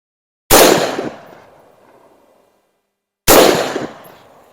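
Two loud pistol shots at an outdoor shooting range during 15-yard drills with an EOTech EXPS2-0 sight, each a sharp crack with a decaying echo, spaced about three seconds apart with no talking.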